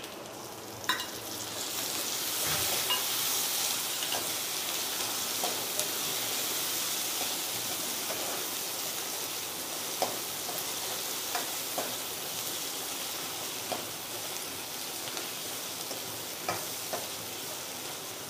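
Onions frying in a pan for dal bati, a steady close sizzle and hiss running throughout with occasional faint clicks of a spoon, no voices.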